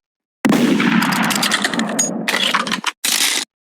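Rapid automatic gunfire from a video game shooter, a dense continuous burst of shots that runs for about two and a half seconds, then breaks off briefly and resumes for a short final burst.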